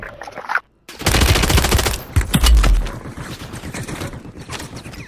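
Loud, close bursts of rapid automatic gunfire in a Call of Duty match, a dense volley followed by a heavy burst and then scattered lighter shots.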